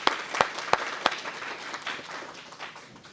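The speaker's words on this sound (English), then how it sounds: "So if we could just give them a round of applause." A graduation audience gives a round of applause, starting with several sharp, loud claps close by and then settling into a softer, scattered patter of clapping from the crowd.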